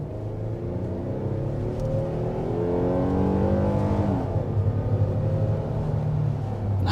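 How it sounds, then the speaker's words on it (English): 2023 Kia Telluride SX Prestige mid-size SUV accelerating hard to 60 mph, engine note rising steadily through the gears with a brief shift dip, heard loud from inside the cabin. "Just like that, you're up to 60 miles an hour in the 2023 Kia Telluride."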